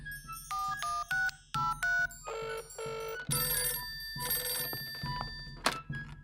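A cartoon telephone in a Ben and Holly Christmas episode: a quick run of bright electronic dialing beeps, then a rapid, trilling ring, close and clear with no talk over it.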